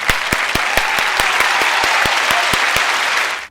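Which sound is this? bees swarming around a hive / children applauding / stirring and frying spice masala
children applauding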